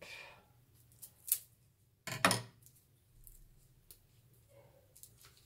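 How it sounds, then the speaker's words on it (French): Packaging around wax products is unwrapped in a quiet room, with a couple of sharp crinkling, snipping bursts and a few faint rustles between long near-silent gaps. "Pareil, je déballe tout."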